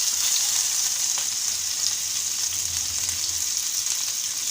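Chopped onion and green chili sizzle steadily in hot oil left from frying hilsa fish, a dense, even crackle close up with no voices.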